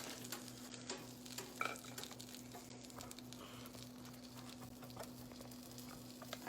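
A hot pan sizzles and crackles steadily while chicken fried rice is being cooked, with a continuous frying hiss and a few light stirring taps over a constant low hum.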